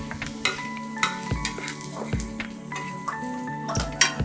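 Onion masala seasoned with asafoetida and salt fries in a pan, a steady sizzle broken by repeated sharp scrapes and clinks of a spoon stirring against the metal, close and fairly loud.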